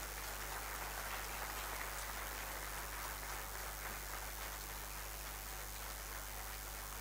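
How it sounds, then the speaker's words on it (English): A large audience at a university convocation ceremony for Thapar Institute of Engineering and Technology claps steadily, a faint, distant wash of applause lasting throughout with no talk over it. "A big round of applause, please."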